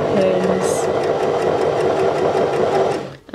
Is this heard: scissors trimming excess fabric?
no